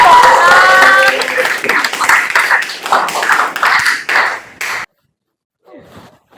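A class gives a group a lively round of applause. Rapid clapping mixes with voices, then cuts off abruptly, leaving near silence with a faint sound afterward.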